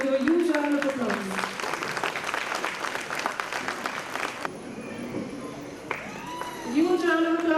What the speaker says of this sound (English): I kindly welcome you all to give a huge round of applause.